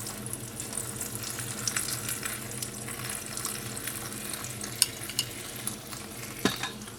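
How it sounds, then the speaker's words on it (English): Garlic naan with a garlic coriander topping fries in a pan with a steady, soft sizzle and crackle, and a few sharper clicks near the end. "Now let it fry for a few minutes."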